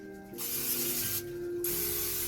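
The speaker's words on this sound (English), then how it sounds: "So let's spray this down again" Two long hissing bursts from a spray bottle misting liquid, loud and close, separated by a brief pause.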